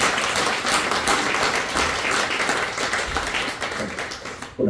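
A church congregation at a Sunday service claps together in a dense, steady round of applause that fills the room and cuts off abruptly at the end.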